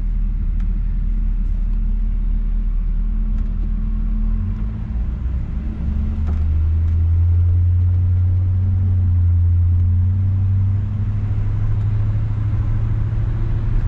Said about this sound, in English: I just like to warm the car up